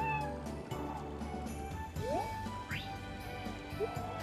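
A cat in the farming video game Harvest Moon: Animal Parade meows a few times, short rising synthetic calls over a looping game music background.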